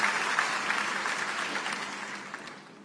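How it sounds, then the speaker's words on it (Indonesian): A church congregation applauding after a sermon, a dense, steady wash of clapping that fades slightly toward the end, with no speech over it. "Yang percaya kita tepuk tangan yang paling meriah bagi Yesus Kristus Tuhan kita."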